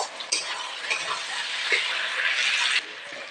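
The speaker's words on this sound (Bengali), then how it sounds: "আদা রসুন এগুলি একটু ভেজে নেবো তারপরে সর্ষে বাটাটা দিয়ে দেবো" Ginger, garlic and ground spice paste fries in a pan, a steady close sizzle with brief scraping strokes of a spatula as it is stirred.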